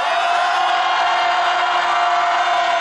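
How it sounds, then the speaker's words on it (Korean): A large crowd of candlelight protesters roars and cheers in a loud, sustained wall of voices on a city street march, filling the whole moment without a break. "힘찬 함성 부탁드리겠습니다."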